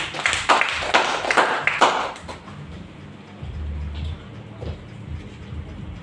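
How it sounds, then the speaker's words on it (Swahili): A church congregation claps together for Jesus in a loud, dense burst of applause lasting about two seconds, then fades into a quieter room with low rumble and scattered faint sounds. "Pigia Yesu makofi mazuri."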